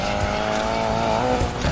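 A car drifts in Need for Speed Payback, its tires squealing loudly in a sustained, wavering screech over engine roar for about two seconds.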